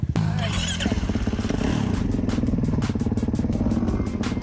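2019 Kawasaki KX450 dirt bike engine revving when the throttle is cracked, a loud, close, rapid firing rhythm that holds steady, with voices in the background.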